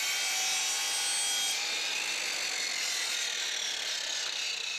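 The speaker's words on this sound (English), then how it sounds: "saw the other skirting board in mitre" A handsaw cuts a mitre through a wooden skirting board, giving a steady, continuous rasping hiss that stays close and fairly loud throughout, with no talking.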